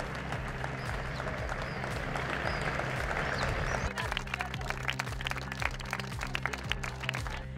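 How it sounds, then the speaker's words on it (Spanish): Evening applause for health workers rising from windows and balconies across a neighbourhood, a dense continuous clatter of many distant hands that thins into sparser, scattered claps toward the end. "Desde ventanas y balcones se generó una ola solidaria con una cita ineludible, el aplauso de las 8 al personal sanitario"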